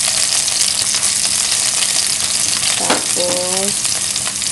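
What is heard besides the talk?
garlic sizzling while frying in a pan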